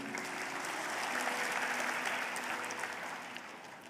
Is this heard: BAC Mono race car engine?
no